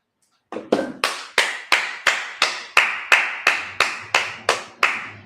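Sabbath service congregation clapping in unison, about fourteen sharp, evenly spaced claps at a steady rhythm after a brief silence, close and crisp, with no talking.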